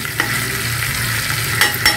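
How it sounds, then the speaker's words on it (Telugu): Browned onion pieces frying in a pan are stirred, a loud close sizzle with scraping strokes of the spoon against the pan, no speech. "మూత తీసి మరొకసారి ఉల్లిపాయ ముక్కలు కలుపుతాము."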